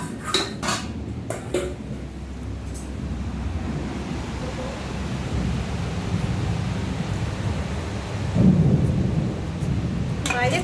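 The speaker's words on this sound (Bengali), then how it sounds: "বাইরে খুব বৃষ্টি হচ্ছে" Heavy rain falls outside with thunder, a continuous hiss and low rumbles swelling over about ten seconds, while dishes clatter sharply indoors near the start.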